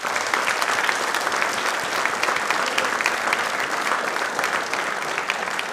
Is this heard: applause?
yes